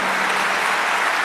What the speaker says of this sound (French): je vous demande si vous voulez bien d'applaudir chaleureusement la deuxième finaliste